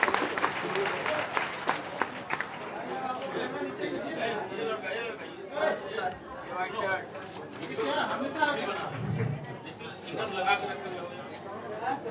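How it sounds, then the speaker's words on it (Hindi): An audience at a Bihar BJP joining ceremony claps to welcome an MP, a moderate, uneven round of applause mixed with crowd chatter and a voice over a loudspeaker. "एक बार जोरदार तालियों से आप उनका स्वागत करेंगे"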